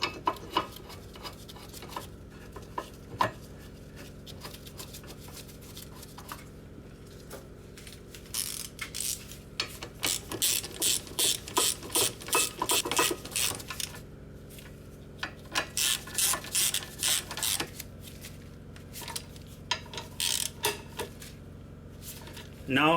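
A hand ratchet clicks in rapid bursts while brake caliper bolts on a Mercedes/Dodge Sprinter are tightened, with short runs of sharp, close metallic ticking separated by pauses and some quieter handling sounds.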